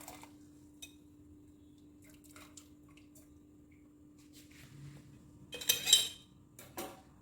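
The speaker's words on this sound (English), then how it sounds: "Take the jar out of there." A glass jar of mango jam lifted out of water: near-silence broken by a few faint taps, then a brief cluster of close clinks and watery splashing near the end, with no talking.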